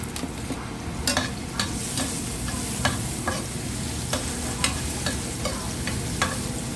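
Garlic and upo gourd sautéing in a pan for ginisang upo, a continuous close sizzle with repeated sharp spatula scrapes and taps at an irregular stirring rhythm.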